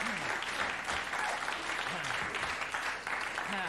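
A live comedy show audience applauds steadily, a soft continuous patter of many hands at a moderate distance with a few faint voices mixed in.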